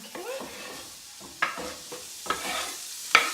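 Onions cooking in a pan, a soft low sizzle broken by a few sharp scraping stirs spaced about a second apart, close and fairly quiet.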